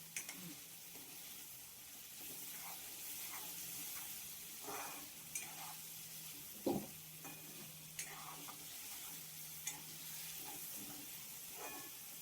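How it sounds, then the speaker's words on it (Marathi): Fried eel pieces frying in masala in a pan, a faint steady sizzle with scattered stirring scrapes and clicks at close range, no talk over it. "त्याच्यावर हे तळलेले वाम टाक. मसाल्यात चांगली थोडी तळू द्यायची."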